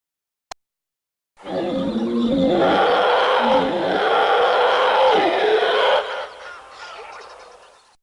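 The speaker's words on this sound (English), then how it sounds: "Its loud howling call can be heard for miles around." A howler monkey from the rainforests of Central and South America lets out a loud, sustained, roaring howl lasting several seconds, close and alone, before it fades away.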